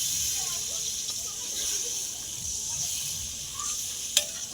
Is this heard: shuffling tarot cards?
no